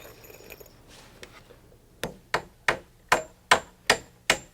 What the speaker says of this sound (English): Then positions and nails the middle stringer.